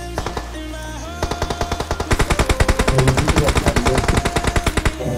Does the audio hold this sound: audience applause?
no